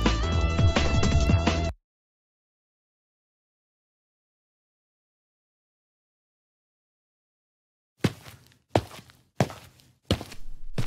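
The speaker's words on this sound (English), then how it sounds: "I heard footsteps." A burst of loud sound cuts to a long silence, then about five heavy footsteps thud nearby in an uneven rhythm, each a dull, close impact.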